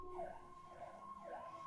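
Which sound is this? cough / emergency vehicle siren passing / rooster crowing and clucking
emergency vehicle siren passing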